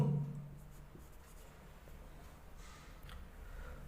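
Pen writing on paper while working a class 10 math problem, faint soft scratching strokes close up in a quiet room, with a brief low hum at the start and no talking.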